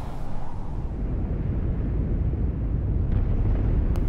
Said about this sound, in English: Those are very important to create some kind of continuous roaring and rumble sound.